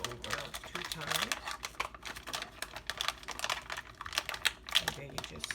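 A coffee bag being folded over and its side tabs pressed shut, giving a run of close, crisp crinkling and tapping sounds in quick irregular bursts.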